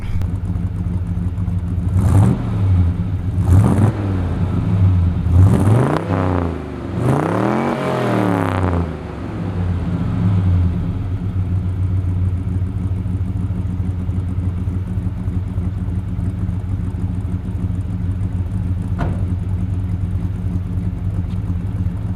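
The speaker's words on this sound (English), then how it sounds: "Courtesy rev? You got it." An older Buick with a big V8 and mild RV cam, carbureted and running rich, is revved close up in several rising and falling bursts, then settles to a steady, lumpy idle rumble that carries on to the end.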